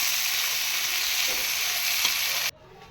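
Two tablespoons of oil sizzle loudly and steadily in a pan while the sauce for chicken shashlik is started, then the hiss cuts off abruptly near the end, leaving a faint low residue.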